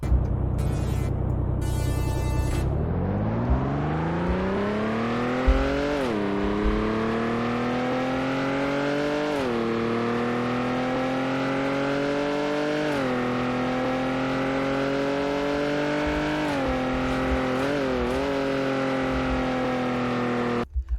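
A Ford F-150 pickup truck in the game Car Dealership Tycoon revs up and climbs steadily in pitch through repeated gear shifts, accelerating slowly, a continuous loud motor drone with no talking.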